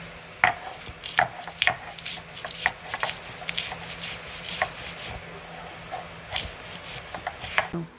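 Ginger, garlic cloves and green chilli ground by hand for a Bengali village-style morola fish curry, a steady run of scraping, rubbing strokes with sharper knocks, close and fairly quiet, no talk.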